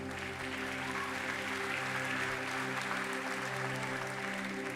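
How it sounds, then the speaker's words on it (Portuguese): Church congregation applauding during an evening worship service, a steady wash of clapping heard over a sustained organ or keyboard chord. "pode aplaudir o nome de Jesus"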